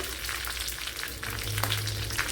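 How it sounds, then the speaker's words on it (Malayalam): A quarter teaspoon of mild chili powder goes into a hot pan with a soft, steady sizzle that rises slightly halfway through, heard close and alone. "ഒരു 1/4 ടീസ്പൂൺ എരിവില്ലാത്ത മുളക് പൊടിയാണ് ഇട്ട് കൊടുത്തിട്ടുള്ള"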